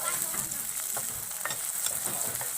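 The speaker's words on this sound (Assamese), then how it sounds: "তেল গৰম হৈছে, আমি মিছা মাছখিনি এতিয়া তেলত যোগ কৰি দিছোঁ।" Small shrimp fry in hot oil in a pan, a steady close sizzle broken by spattering pops and a few stirring scrapes, with no talking.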